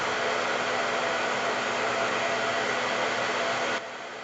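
A hair dryer running on its regular heat setting blows a loud, steady airy roar close by, holding constant for several seconds before dropping to a quieter level near the end.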